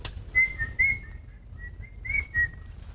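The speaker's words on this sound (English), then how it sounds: "there's whistling everywhere" Crowd whistling at the 2018 IPL final cricket celebration between CSK and SRH, with several shrill whistles rising over a low stadium rumble in repeated short bursts.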